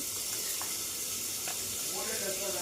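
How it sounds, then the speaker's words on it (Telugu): Mustard seeds and cumin sizzling in hot oil with two chillies for a sambar tempering, a steady soft hiss with faint crackles and pops throughout. "ఆవాలు జీలకర్ర వేసాను."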